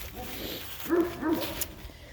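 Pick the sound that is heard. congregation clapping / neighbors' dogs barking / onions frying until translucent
neighbors' dogs barking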